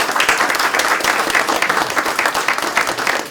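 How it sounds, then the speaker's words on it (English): Sustained audience applause for panelists at a Vietnam Moratorium Committee panel session: dense, even clapping from a full room, loud and continuous throughout. "would you please join me in a round of applause for our panelists"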